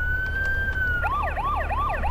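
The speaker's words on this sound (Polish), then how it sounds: "syreny, co prawda nie są jakieś takie totalnie polskie, ale troszkę są zmienione, takie upodobnione" Modified Polish-style police sirens from a GTA III mod: a steady held wail tone gives way to a fast repeating yelp cycle, loud and close over a low engine rumble, with no talk.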